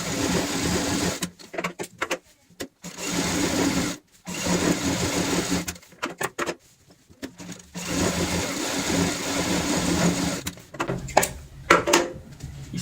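Sewing machine stitching a pillow cover in steady motorized runs, with several short pauses between bursts of stitching, fairly loud and close with no talking.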